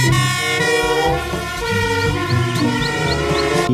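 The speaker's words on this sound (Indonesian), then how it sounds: "Mobil pemadam kebakaran." A toy fire engine sounds off with a wailing electronic siren and horn tones, loud and continuous with repeating melodic sweeps.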